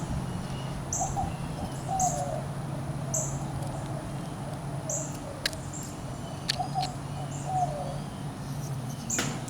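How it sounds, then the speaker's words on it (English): A dove coos softly in the background outdoors, a few repeated low hooting calls at about two and seven seconds, faint under steady ambient noise with chirps of other birds. "Hear that dove in the background?"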